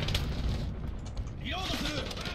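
Cruise missile launch in the video game Call of Duty: Modern Warfare, heard as a steady, dense roaring rumble through the whole moment, with faint tonal whines and a voice rising near the end.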